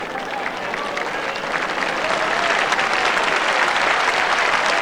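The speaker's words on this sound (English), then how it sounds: "Tremendous applause for Willie Wood" A crowd at the 1984 World Singles bowls final applauds Willie Wood with steady, dense clapping that swells slightly and holds throughout.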